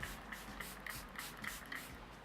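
A rose facial mist bottle is pumped in quick repeated bursts, about eight soft, fine sprays in an even rhythm, close and quiet.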